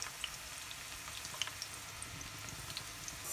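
Red onions fry in palm oil for jollof rice, a soft steady sizzle with scattered faint pops and crackles, fairly quiet and heard on its own.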